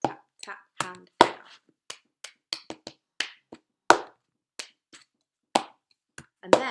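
Plastic cups are tapped, clapped, lifted and set down in a Christmas cup-rhythm pattern. Sharp, close knocks and claps follow a steady, repeating beat with short gaps.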